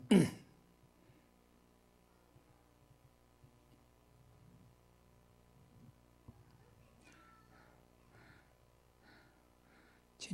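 A man clears his throat with one loud, harsh rasp at the start during a Sunday church service, followed by quiet room hum and another short burst at the very end.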